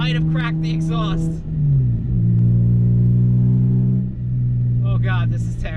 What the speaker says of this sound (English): Might have cracked the exhaust.